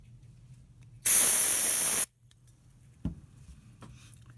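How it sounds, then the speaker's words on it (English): One sustained spray of DeoxIT D5 contact cleaner squirted into a lid, a loud steady hiss lasting about a second, followed a moment later by a faint tap, no speech. "I'm just going to squirt some into this lid here and go at it with a Q-tip."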